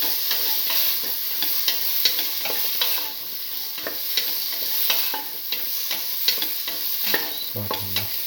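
Bottle gourd and red chillies sauté in a hot pan, giving a steady, loud sizzle broken by frequent clattering stirs. No one speaks.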